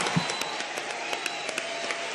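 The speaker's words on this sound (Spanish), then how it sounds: "un aplauso para Diego" A TV studio audience on a Sunday variety show applauds together, a dense, fairly faint wash of many hands clapping at an even level.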